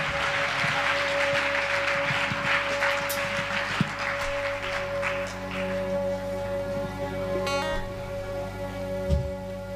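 A church congregation applauding, a steady crowd clapping throughout with a low sustained tone beneath and a few scattered knocks, no talk over it.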